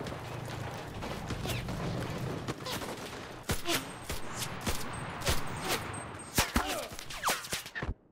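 Gunfire in the World War II shooter game Enlisted: a steady rattle of distant fire gives way to sharp, close individual shots and bursts at irregular intervals.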